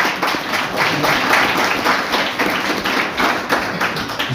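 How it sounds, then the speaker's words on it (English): Loud, sustained clapping from an audience at a business talk, many hands in a fast, dense patter that holds steady from start to finish. "A round of applause."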